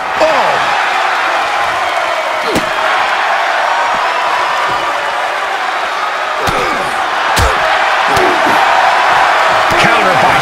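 Heavy impacts from a wrestler's double stomp in the corner in the WWE 2K24 wrestling game, several sharp slams over a constant roaring arena crowd, with a commentator talking over it.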